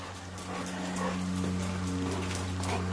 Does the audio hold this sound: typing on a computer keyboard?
no